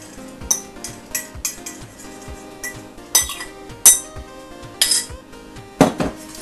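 Crushed pretzels, sugar and melted butter are mixed in a bowl for a pie crust, producing irregular clinks and scrapes of a utensil against the bowl, with sharp taps and short bursts of stirring.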